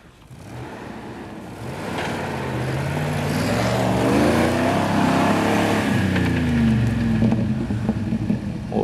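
A Land Rover Discovery I engine revs while stuck off-road in snow. The loud motor drones up and climbs in pitch as the revs rise, then holds a strained, steady roar close by.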